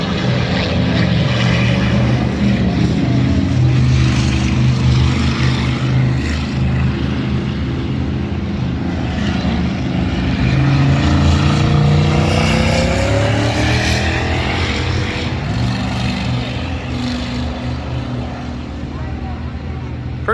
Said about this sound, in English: Double-decker race cars.